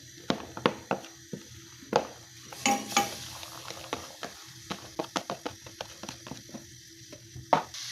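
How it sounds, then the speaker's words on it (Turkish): Vegetables sautéing in a pot, with a low sizzle under scattered metallic clicks and scrapes of a utensil stirring, fairly close and moderately quiet. "Şöyle bir 3-4 dakika kavuruyoruz."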